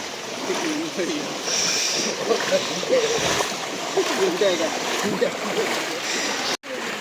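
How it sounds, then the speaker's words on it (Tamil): Steady rushing, splashing floodwater flowing fast through flooded paddy fields fills the whole stretch, loud and continuous, with a brief dropout near the end. "ஃபுல்லாக தண்ணி இப்படி வேகமாக ஓடிடுது"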